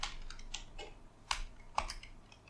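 Keys clatter in an irregular run on a computer keyboard while someone types a search into the Linux Mint 21.1 start menu, with two sharper, louder taps standing out near the end.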